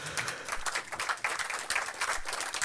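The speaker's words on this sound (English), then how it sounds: "some kind of applause for support, please" Applause at a tech conference session, with a steady rattle of clapping from a room audience running for a few seconds at moderate level and no talk over it.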